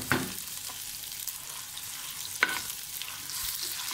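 Ginger garlic paste frying in melted butter in a pan while a spoon stirs it, a steady soft sizzle with a couple of sharp scrapes of the spoon, close and alone without talk.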